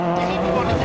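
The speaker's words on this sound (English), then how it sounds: "We're in 6th gear at over 120 miles an hour." A rally car runs flat out in sixth gear at over 120 mph on a narrow, bumpy stage of the 2003 Circuit of Ireland Rally, its engine a steady high-pitched drone beneath a voice.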